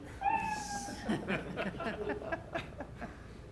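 A cat lets out a drawn-out meow that rises and falls, followed by softer murmuring sounds and light chuckling in a noisy room.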